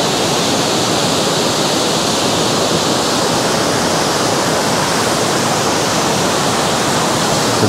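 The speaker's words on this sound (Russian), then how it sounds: "Это пока самый большой водопад, который я видел." Large waterfall in Abkhazia, around 12 to 13 metres tall, pouring in a steady, dense, close roar of rushing water that stays constant throughout.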